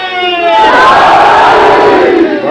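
A large gathering answers a preacher with a loud collective religious slogan, many voices rising together into one sustained roaring shout close at hand.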